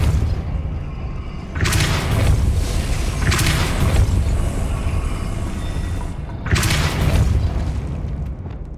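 Spell-casting blasts in the Hogwarts Legacy video game, with three loud booming whooshes near 1.6, 3.3 and 6.5 seconds over a steady rumbling game soundscape.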